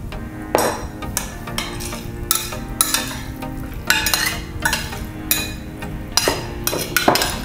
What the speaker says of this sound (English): I'm stirring. I added the sauce. I'm making sure that all the tuna is covered with the sauce.